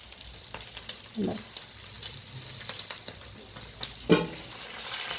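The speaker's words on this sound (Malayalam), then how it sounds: "കുറച്ചുകൂടെ പൊരിച്ച് വെച്ചിട്ടുണ്ട്" Food sizzles in a pan with a steady, close hiss, broken by a few soft clinks and stirring knocks.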